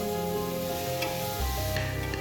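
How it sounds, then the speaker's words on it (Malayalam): Carrots, beans and other vegetables for kuruma are stirred in a cooker, giving a steady sizzle with scraping stir sounds across the short stretch, close and clear with no talk. "ഇതൊക്കെ ചേർത്തിട്ട് നന്നായിട്ടൊന്ന് ഇളക്കി കൊടുക്കണം കേട്ടോ."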